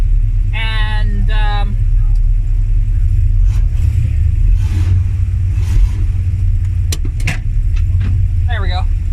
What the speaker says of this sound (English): I'm just letting the car warm up a little bit because it's a little cold at the moment